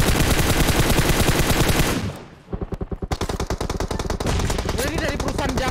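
Automatic gunfire in the mobile battle royale game PUBG Mobile: loud, dense bursts that briefly thin out, then return as a rapid rattle of shots continuing to the end.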